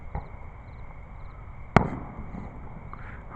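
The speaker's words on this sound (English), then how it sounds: "It's August now, and they're still popping fireworks." A single sharp firework pop bursts outside at night in Memphis in August, loud and sudden against a quiet background, with faint rumbles before and after.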